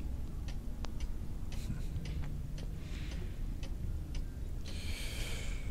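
A pendulum clock ticks steadily in a quiet room, with soft regular clicks under a low background hum and a brief hiss near the end.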